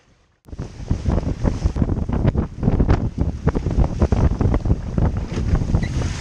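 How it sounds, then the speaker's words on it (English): Heavy wind buffets the microphone while rain falls and large waves surge and splash around a small boat at sea, a loud, continuous rushing roar. "The rain began to fall and large waves built up behind me, sweeping in from the south."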